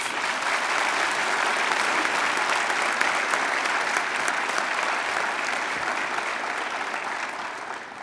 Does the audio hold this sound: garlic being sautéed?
no